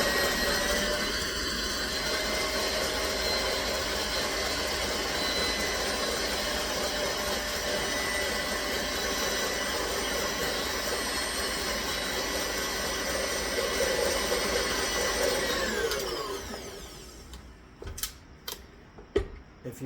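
An electric mixer whips cream at high speed for a key lime pie, a loud steady whine with a rattling buzz that runs for about sixteen seconds, then winds down and stops, followed by a few sharp taps.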